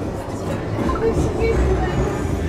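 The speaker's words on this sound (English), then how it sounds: "So I'm just on the tram here now" A tram runs along Blackpool promenade, heard from on board as a steady low rumble of wheels and motor with faint rattling.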